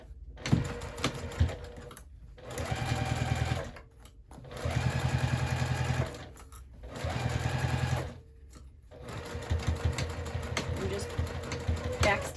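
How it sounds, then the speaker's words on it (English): A sewing machine stitches a zipper onto a handbag at a quarter-inch seam, running in three steady bursts with short pauses between, then continuing unevenly, a voice speaking near the start. "we'll go ahead and get that sewn on at 1/4 inch seam allowance"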